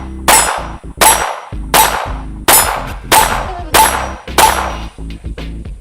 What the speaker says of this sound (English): just shoot that steel target and try to put every round in the center of that steel target